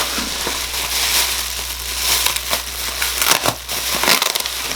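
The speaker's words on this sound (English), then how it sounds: "So the famous Mylar pouch." Loud, close crinkling of a crackly Mylar foil pouch being handled, with a steady low hum underneath and no talking.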